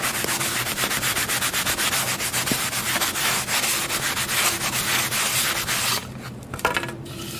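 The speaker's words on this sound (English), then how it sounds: "I'm going to take the faux fur and I'm going to vigorously rub the surface of the foam square that has the writing." A square of foam is rubbed vigorously with faux fur, giving a fast, steady, rhythmic scratchy swishing close to the listener that continues for several seconds and then stops.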